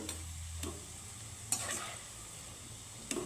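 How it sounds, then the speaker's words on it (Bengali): Sweet pitha deep-frying in oil until reddish, a steady soft sizzle with a few sharp clinks of a utensil against the pan, close and alone. "বাকিগুলো আমি একইভাবে লাল লাল করে ভেজে নেব"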